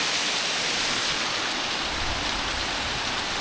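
A waterfall in winter, its water falling in a steady, broad rushing roar that holds at an even level for the whole stretch, close by with no voices over it.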